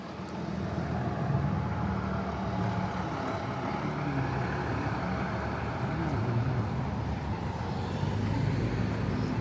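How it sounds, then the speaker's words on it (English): An old city bus rumbles past on a Halifax waterfront street, a steady broad engine and road roar holding loud and close throughout with no voices. "There goes one of the old buses."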